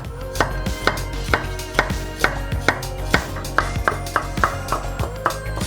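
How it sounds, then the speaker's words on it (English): A knife slices broccoli on a cutting board for chicken fried rice, a close series of about a dozen crisp, evenly spaced chops with a sharp knock on the board at each stroke, no talking. "Now I have a broccoli, I'm gonna slice as well."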